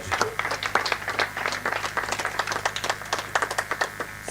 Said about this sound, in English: Let's give a round of applause to Salahela.